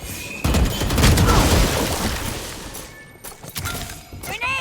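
A grenade explodes in an online shooter match, giving a loud booming blast with a rumbling crash that fades over a few seconds, followed by clattering effects and a whooshing sweep.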